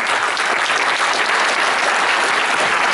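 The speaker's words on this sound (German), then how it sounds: "Begrüßen Sie mit mir Bernd Rückstedt, ein Mann, der mit uns seine Vision teilt" An audience at a 2014 business forum in Dachsberg applauds to welcome a speaker, a dense, steady wash of clapping from start to finish.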